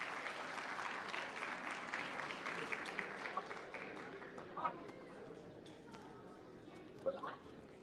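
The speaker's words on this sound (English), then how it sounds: "With a big round of applause, please welcome Nadia Afgan" Applause at a diabetes awareness and fundraising event in Adelaide, fairly faint and distant, a steady patter of clapping that thins out toward the end with a couple of louder knocks.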